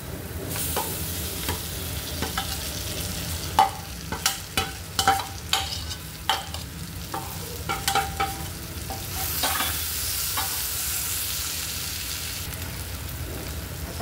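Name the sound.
onion and capsicum stir-frying in a pan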